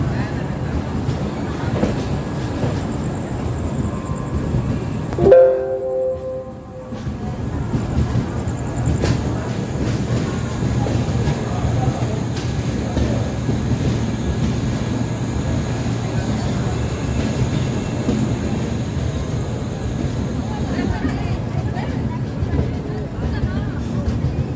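Pratham Swatantrata Sangram Express (22197) standing at Patna Junction station in Bihar, a steady low rumble of idling train and station noise throughout, with a brief louder clank and tonal squeal near the middle and voices murmuring.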